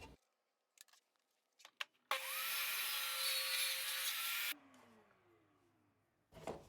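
A table saw rips a thin 1/4-inch hardwood edging strip: a loud, steady cutting whine for about two and a half seconds, preceded by a few knocks and followed by the blade spinning down.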